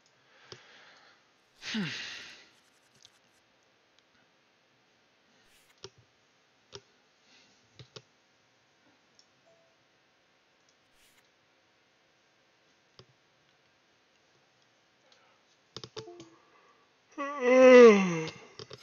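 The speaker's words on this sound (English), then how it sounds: "Sorry about the yawn." A person yawns at a computer during an online poker session, with a drawn-out falling exhale early on and a longer, louder voiced yawn near the end, separated by sparse mouse clicks in a quiet room.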